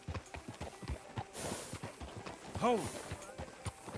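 Horse hooves clip-clop at a steady walk on a town street in Red Dead Redemption 2, a close, even beat, with a brief voice and a short whinny-like sound in the middle.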